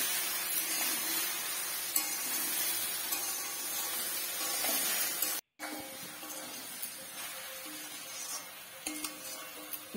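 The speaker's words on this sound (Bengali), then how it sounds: "এবার একটু নাড়াচাড়া করে একটুখানি খুন্তির আগায় করে একটু কুলগুলোকে ফাটিয়ে দিলে বেশ ভালো হবে।" Jujube (kul) pickle stirred with a metal spatula in a pan, giving a steady close scraping and soft sizzling hiss with a brief cut midway.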